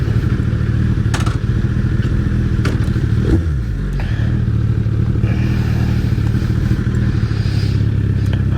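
Suzuki Hayabusa motorcycle engine running loud and close, a steady rumble with a brief rev surging and falling in the middle, heard alone without talk.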